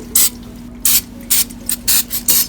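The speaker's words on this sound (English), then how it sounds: "Spritz it a little bit." Olive oil spritzed from a sprayer onto battered cod before air frying: six short, crisp hissing bursts close to the mic, separated by brief pauses.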